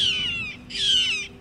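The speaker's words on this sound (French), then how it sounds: "Il y a plein d'oiseaux qui viennent d'arriver." Two loud, harsh calls from a large bird at the edge of a Patagonian lake, each drawn out with a brief gap between, close and clear over a quiet background.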